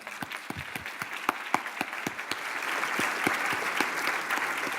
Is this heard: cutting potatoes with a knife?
no